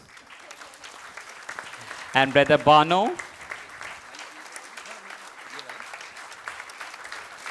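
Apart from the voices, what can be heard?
audience applause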